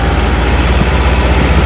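A tractor engine labouring as it climbs, a loud, steady low rumble with a continuous heavy drone and no breaks.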